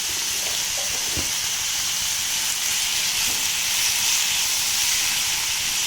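A tomato mixture with salt and turmeric fries in a pan, a steady close hiss and sizzle running throughout with a couple of faint clicks and no talking.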